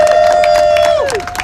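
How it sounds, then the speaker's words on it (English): A demonstration crowd at an outdoor rally in DC claps and cheers loudly and close by, with a sustained whistle or shout riding over the clapping before it fades. "Give yourselves a round of applause"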